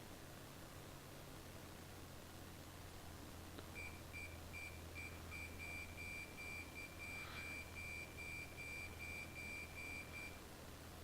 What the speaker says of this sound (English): That's the inner marker, that loud beeping.